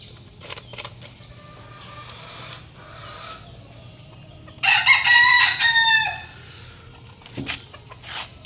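A rooster crows loudly mid-clip over steady low background hum, with scattered clucks and short calls from chickens and a hen near its coop before and after.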